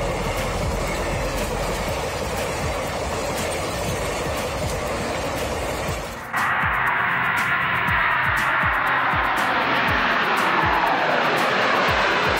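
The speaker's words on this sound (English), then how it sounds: "Airplane." A loud airplane engine roars steadily, its broadband drone swelling and shifting pitch as it passes close overhead, with rapid rhythmic clatter underneath.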